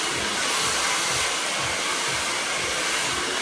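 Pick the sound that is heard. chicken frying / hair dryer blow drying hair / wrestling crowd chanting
hair dryer blow drying hair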